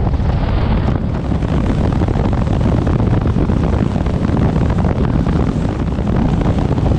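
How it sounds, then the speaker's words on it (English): A 2022 Harley-Davidson Low Rider S motorcycle accelerates hard on a quiet straight road, its engine roar steady and loud throughout, heavily mixed with wind buffeting the rider's microphone. "just to get a sense of the acceleration of this bike"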